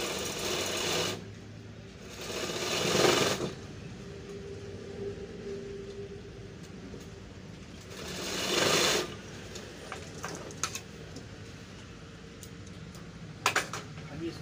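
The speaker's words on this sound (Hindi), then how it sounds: "ये चैन को बंद करके दूसरा सिलाई भी लगा लेंगे, तो चैन के ऊपर दो सिलाई रहेगी।" A sewing machine runs a second line of stitching over a pant zipper in three short, loud mechanical bursts separated by quieter pauses.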